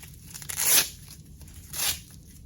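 Velcro on a CAT Gen 7 tourniquet is ripped apart in two short, crisp tearing bursts about a second apart, close and fairly loud in a quiet room.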